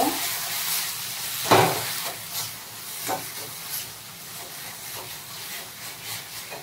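A spoon or spatula stirs bottle gourd peel mash as it fries in a pan, giving soft scraping strokes at irregular intervals over a continuous gentle sizzle and hiss.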